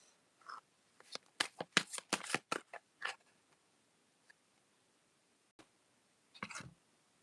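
Tarot cards shuffled by hand in a quick run of crisp riffling bursts, then a pause, a single tap, and a final short shuffle or card draw, close and fairly quiet with no talking.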